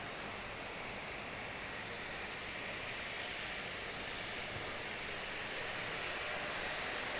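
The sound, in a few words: propeller aircraft engine starting up at Christchurch Airport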